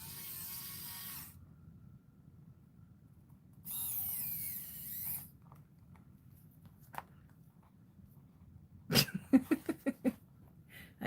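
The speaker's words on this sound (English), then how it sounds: "I am so tempted to just go get my other drill." A power drill driving screws into wood, a couple of sustained whirring bursts early on, then a rapid run of sharp, close clacks and taps near the end, with no talk.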